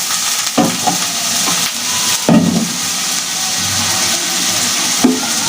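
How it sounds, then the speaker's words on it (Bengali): A hilsa fish head dropping into a hot pan of oil, bursting into a loud, steady sizzle with a few sharp spatters and stirring knocks; no voices. "তো মাছের মাথাটা আমি দিয়ে দিলাম।"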